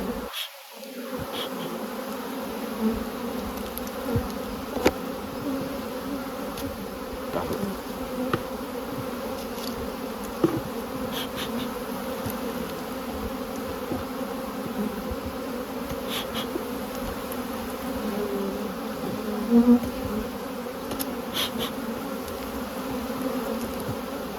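Honey bees buzz steadily and densely around beehives being moved in November, a continuous near hum with a few louder passes of individual bees close by, no talking.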